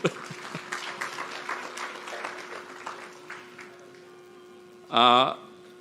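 Round of applause for Dr. the Honorable Godfrey Dyer at a tourism network event, scattered clapping beneath a steady hum that fades out over a few seconds, followed by a brief loud tonal burst near the end.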